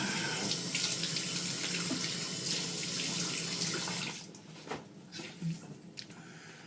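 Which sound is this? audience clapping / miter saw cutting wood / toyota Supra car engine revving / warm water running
warm water running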